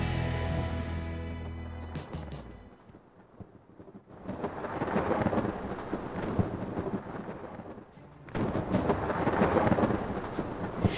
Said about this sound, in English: more raindrops began to fall slowly, one by one, from the sky